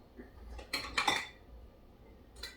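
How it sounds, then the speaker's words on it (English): A metal lid set on a glass jar of spicy honey pickles in brine, giving a few soft clinks and light metallic taps close by, then a brief scrape, fairly quiet in a still kitchen. "And put a lid on it"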